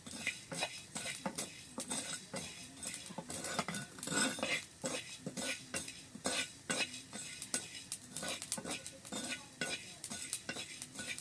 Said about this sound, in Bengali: এখন জিরাটা ভেজে দিচ্ছি